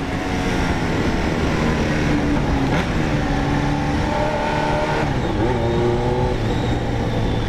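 A loud motorbike engine drones steadily, its pitch rising and falling as it revs, close by and continuous with no voices.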